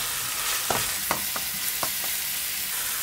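Garlic with mixed herbs and a splash of soy sauce sizzles steadily in a frying pan, a constant broadband hiss broken by a handful of sharp scraping taps as the mixture is stirred.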